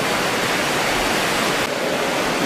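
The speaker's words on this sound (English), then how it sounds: "Clean water weirs over and then goes on to the next part of the process." Clean water spilling over a weir at a water treatment works, a loud, continuous broadband rush close by with no other sounds.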